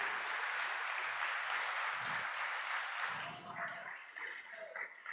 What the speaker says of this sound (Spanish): Le da palmas fuertes al Señor por eso.